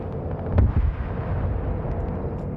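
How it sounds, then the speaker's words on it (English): An Abrams tank cannon fires during a PvP tank video game match: one heavy, low boom lands early, followed by a lingering rumble and a steady background of distant battle noise, with no voices. "Looks like the other Abrams is shooting into here."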